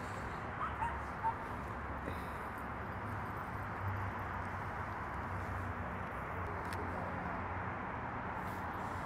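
Puppies playing on a city street give faint, scattered yips and whimpers over a steady low rumble of traffic and outdoor background noise.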